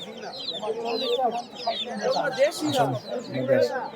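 Chickens with chicks cluck and squawk continuously at a crowded outdoor poultry and duck market, busy overlapping calls close by with steady market bustle beneath.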